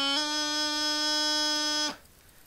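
A bagpipe practice chanter plays a D throw coming from E: a reedy, buzzing held tone with a quick ornamented grace-note flick at the start, sustained for nearly two seconds before cutting off cleanly.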